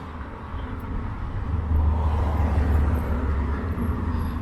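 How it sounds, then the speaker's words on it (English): An old classic Corvette passes on a city street in Toronto, its low engine rumble building and swelling over steady traffic noise, heard close by for a few seconds. "Oh, there's an old classic Corvette."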